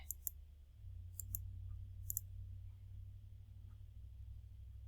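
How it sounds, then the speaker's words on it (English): A computer mouse gives a few sharp, quiet clicks in two or three small clusters over a low steady hum, during embroidery software work on a sewing pattern. "I'm going to right click."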